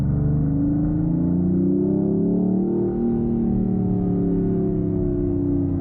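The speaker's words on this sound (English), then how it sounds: "The Hurricane doesn't sound as good as a HEMI" A 2026 Dodge Charger Sixpack Scat Pack's high-output turbocharged Hurricane engine accelerates close by, a steady droning roar that climbs in pitch and holds continuously with no talking.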